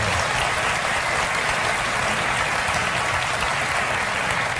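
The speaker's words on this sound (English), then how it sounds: "Wasn't that resounding an applause for her?" A television talk-show studio audience claps for Amy Adams, a thick, continuous wash of applause that stays loud and even throughout with no talking over it.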